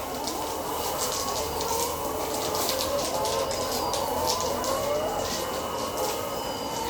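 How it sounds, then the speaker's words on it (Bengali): Layer hens in a farm shed make a steady, dense chorus of clucks and calls, with a constant background hum throughout. "মাশাআল্লাহ, মুরগিগুলো অনেক স্বাস্থ্যবান।"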